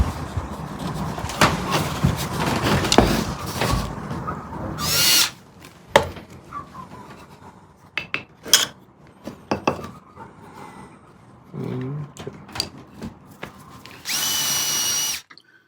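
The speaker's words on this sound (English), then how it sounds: "Let's get that drilled out of there." A power drill bores out a part of a mid-19th-century piano and a test hole in a wood block, with grinding bursts and rattling knocks, plus several short loud whirring runs of the drill spinning between pauses and handling clicks.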